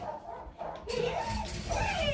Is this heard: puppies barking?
yes